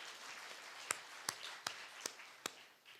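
Quiet church service hall with a handful of sharp, evenly spaced single claps, about five in a row, standing out faintly over a low background hush.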